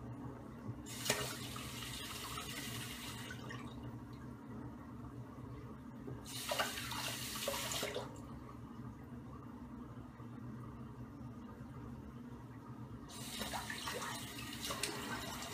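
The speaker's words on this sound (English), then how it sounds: "let me go ahead and rinse off" A bathroom tap runs in three separate bursts while someone rinses off after a shave with a Feather Artist Pro shavette, each gush of water lasting a couple of seconds against a quiet room, no talk.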